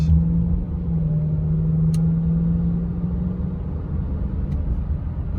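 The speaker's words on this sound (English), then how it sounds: "These UZ motors, they sound good with just a muffler delete." A Lexus LS430 with a UZ V8, run with a muffler delete, accelerates gently, giving a smooth, steady low rumble with a sustained engine tone from inside the car and a couple of faint clicks.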